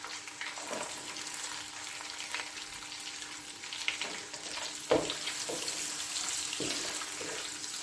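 Large slices of onion frying in oil with garlic for a chicken pasta, a moderate, steady sizzle broken by occasional spoon clinks and stirring knocks, one sharper tap standing out midway.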